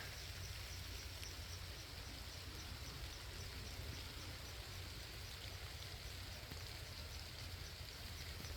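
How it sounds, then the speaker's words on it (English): Steady, soft rain falls over a small Kenyan coffee farm, a continuous even hiss with no breaks and no voices. "Rain is here."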